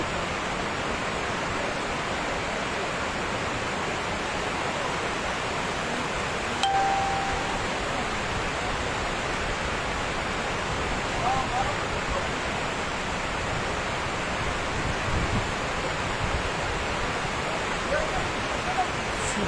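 A creek swollen by snowmelt rushes in a constant broadband roar, loud and close, flooding a neighbourhood in Sürmene.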